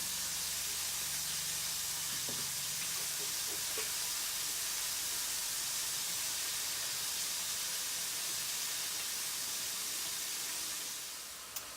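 Calamari deep frying in a deep fryer, a steady loud hissing, bubbling sizzle that holds evenly for about eleven seconds before tapering off at the end, with no talking.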